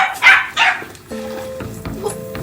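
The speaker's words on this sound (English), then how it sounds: "Did someone let a dog in here?" A dog barks indoors, two loud close yaps followed by a voice speaking and low room noise.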